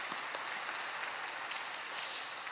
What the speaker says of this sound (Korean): 우리 하나님께 영광의 박수 한번 올려드립니다.